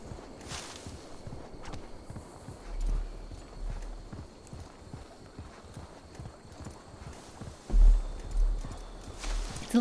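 Horse hooves in Assassin's Creed Valhalla clip-clop at an even walking pace over a firm surface, with faint rustling and no talk.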